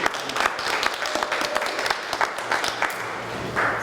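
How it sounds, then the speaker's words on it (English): A summit audience applauds, with dense, steady clapping from many hands filling the room at moderate loudness for a few seconds. "It's a round of applause for Lemon and Thyme."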